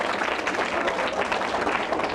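Audience applause fills a quiz-style event as a crowd claps for a correct answer, a steady dense wash of many hands throughout, fairly loud and continuous with no talk over it.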